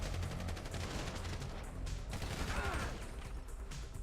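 Continuous rapid gunfire crackles without pause in the video game GTA V, dense bursts of shots layered over a steady rumbling background.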